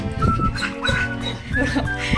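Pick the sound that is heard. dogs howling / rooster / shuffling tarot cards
dogs howling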